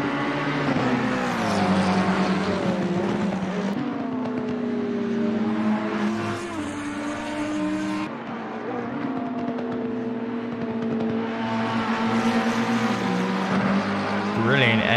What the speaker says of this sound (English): coming through the Schumacher S's here. McLaren versus Ferrari.